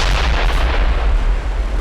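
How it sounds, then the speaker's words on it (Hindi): A bomb hidden in a tape recorder explodes inside a mosque, a loud, heavy roar of booming low rumble that fills the whole moment without any voices. "जैसे ही रिकॉर्डर का बटन दबता है, भयानक धमाका होता है।"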